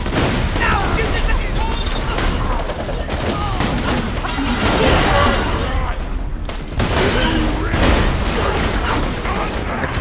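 Loud, continuous gunfire and bursts of automatic weapons fire from the Borderlands video game fill the whole stretch, with booms mixed in and voices talking over the shooting.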